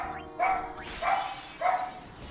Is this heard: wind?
no